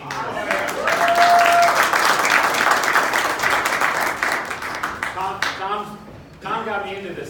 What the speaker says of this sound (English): I'd like us to give an applause to Tom for all of his hard work for 14 years